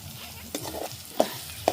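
Prawn sothi being stirred and mixed in a pot, with soft scraping strokes and a few sharper clinks of the spoon against the pot, close and fairly quiet, no talking.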